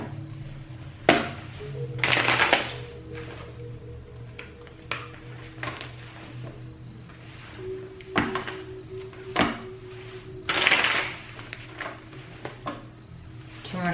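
A deck of tarot cards being shuffled by hand: soft, irregular rustles and taps with a few louder bursts, close by and fairly quiet.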